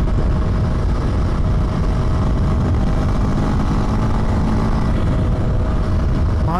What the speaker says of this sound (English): It's pretty amazing that a single cylinder motor can be this smooth.